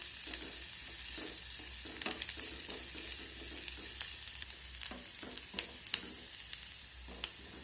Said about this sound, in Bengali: পেঁয়াজটাকে একটু বাদামি কালার করে ভেজে নিতে হবে।